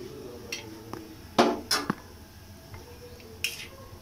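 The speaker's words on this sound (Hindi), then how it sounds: "बर्तन भी धो लूँगी" Dishes, pots and utensils being washed in a home kitchen: scattered metallic clinks and clatters of cutlery and pans, a few sharper knocks among soft running background noise, fairly close with no talking.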